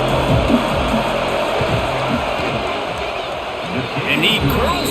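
Video game stadium crowd noise before a college football field goal, Kent State against Oklahoma: a steady, dense roar of cheering fans with scattered shouts, while a commentator talks over it throughout.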